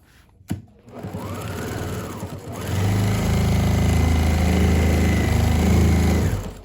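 After a click and a moment of quieter handling, a sewing machine starts up and runs loud and close in a steady, continuous drone, sewing fabric with a 2mm stitch length for a pad for a hard metal outdoor chair.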